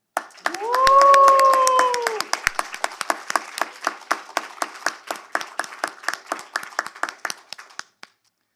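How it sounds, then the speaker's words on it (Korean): An audience at the 3rd Korea Corporate Governance Awards ceremony claps in a fast, even, almost unison rhythm. A brief sustained vocal cheer rises over the first seconds, then the claps carry on alone and gradually fade. "우리 한번 소리 한번 치고 다시 한번 박수 한번 칩시다"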